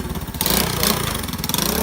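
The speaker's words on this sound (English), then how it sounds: "I just kept revving it" Pit bike fitted with a two-stroke conversion kit revving hard up close, a loud buzzing engine that jumps sharply in pitch and holds a raspy high whine.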